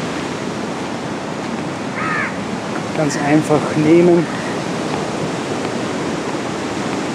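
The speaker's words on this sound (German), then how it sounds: "Und da sind wir jetzt am Meer." Steady broadband surf of sea waves rolls onto the beach at Nattika, Kerala, India, a constant wash with a person speaking briefly over it midway.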